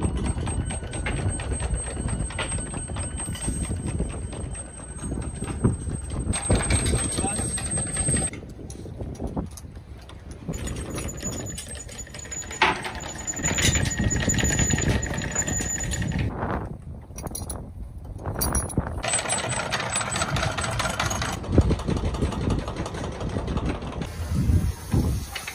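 A sailboat's engine runs steadily throughout, with mechanical clanking and rattling layered over a constant hum.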